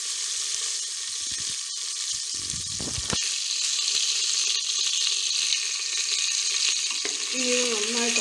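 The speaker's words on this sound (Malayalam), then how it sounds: "ഇനി നന്നായിട്ടൊന്ന് വഴറ്റി കൊടുക്കാം." Small onions and green chillies sauté in hot oil for sambar, giving a steady broad sizzle with occasional stirring scrapes. A brief faint hum of voice comes in near the end.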